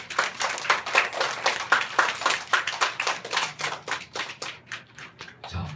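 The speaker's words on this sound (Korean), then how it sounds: "이 자리에 와 있는 형제자매들 서로 격려의 박수를 한번 쳐줍시다" A congregation claps together in encouragement during a church lecture on Hebrews, a dense burst of hand claps that thins and slows into scattered separate claps toward the end.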